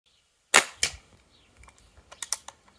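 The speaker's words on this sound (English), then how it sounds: "Muzzle report changing as well." CO2-powered airgun firing: two sharp, loud cracks of muzzle report in quick succession, followed by a few fainter, snappier clicks and pops near the end.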